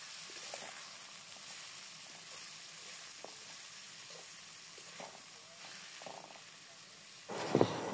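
Potatoes, onions and chopped tomato fry in a pan for a thin fish curry, a quiet, even sizzle with faint stirring scrapes, ending in a sudden louder clatter against the pan.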